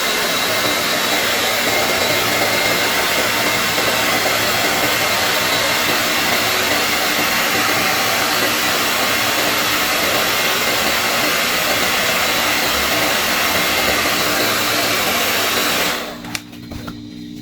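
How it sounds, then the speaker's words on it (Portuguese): Hair dryer blowing steadily at close range to dry paint on a corrugated cardboard plant pot, a loud constant whooshing hum that cuts off near the end. "Agora eu vou secar porque é mais rápido"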